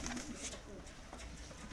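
Adana pigeons coo softly in short, murmuring bursts amid faint background noise, fairly quiet and close by.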